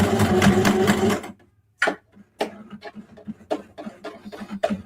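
A sewing machine stitches a fabric book cover with a dense, loud whirring run that stops abruptly, then gives way to quieter scattered clicks and fabric handling.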